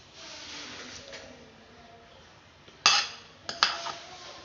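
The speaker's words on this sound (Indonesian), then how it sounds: "Nanti kita akan aduk rata sampai semuanya merata nih guys." A utensil scrapes and clinks against a pot or bowl while blended ingredients for Acehnese sie reuboh are stirred, a soft wet swishing broken by a few sharp metallic knocks near the end.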